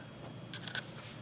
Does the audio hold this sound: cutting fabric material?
yes